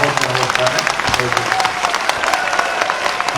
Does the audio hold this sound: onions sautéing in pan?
no